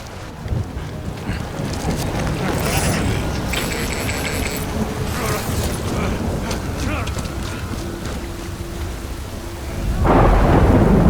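A thunderstorm in Death Stranding, a video game: heavy rain pours steadily with rolling thunder and gusty wind, swelling louder toward the end, with no talk over it.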